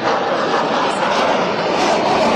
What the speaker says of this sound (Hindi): आप देखें रफाल जो लड़ाकू विमान है वो यहाँ पर फ्लाई पास का इस वक्त हिस्सा है